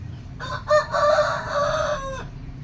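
A fighting rooster crows once, loud and close, a drawn-out strained call of about two seconds with harmonic tones, over faint background noise.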